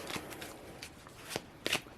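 A Divine Doors tarot deck being shuffled by hand, soft papery riffles and flicks in several uneven bursts, close and fairly quiet, with no speech.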